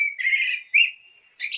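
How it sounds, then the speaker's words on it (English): Songbird calls close by and alone, a run of bright chirps and warbled phrases with short breaks between them, loud and clear against a quiet background. "you sense the songs of the birds all over the planet"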